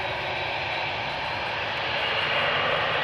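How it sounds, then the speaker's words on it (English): American Airlines Boeing 787-8 Dreamliner, two years old, at Amsterdam Schiphol Airport, giving a steady broadband jet engine roar with a slight swell toward the end, heard alone without voices. "that would be this Dreamliner from American Airlines."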